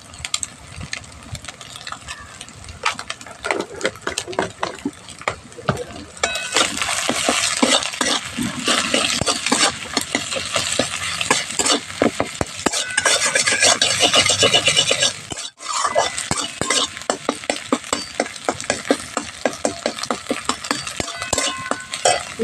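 An egg fries in a pan for homemade egg chow mein, with a spatula scraping and stirring in rapid repeated strokes over a sizzle that swells louder midway, then briefly drops out before the stirring resumes.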